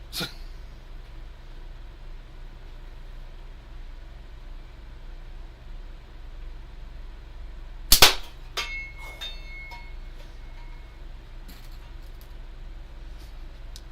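One sharp gunshot at a can cracks out loudly over steady background noise, followed a moment later by a few fainter knocks and clatters, then a quieter distant report.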